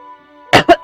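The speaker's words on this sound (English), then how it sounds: "So I need to cough to get it out." Three sharp, loud coughs come in quick succession after a quiet, faint hum, someone trying to clear something stuck in the throat, close to the mic.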